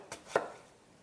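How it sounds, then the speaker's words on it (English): Two quick knife chops dice an onion on a cutting board, the second sharper and louder, close and alone with no voices. "So now I'm just chopping down through the lines."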